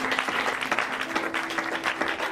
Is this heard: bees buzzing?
no